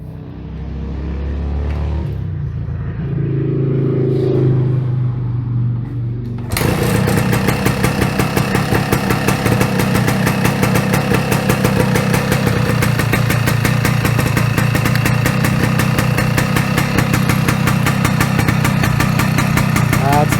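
A Honda KT250 two-stroke motorcycle engine runs loud and close after a quieter opening with faint rumble, then settles into a steady, rapid idle with a dense buzzing pulse throughout.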